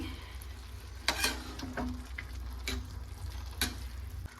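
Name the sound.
stirring egg biryani masala after adding curd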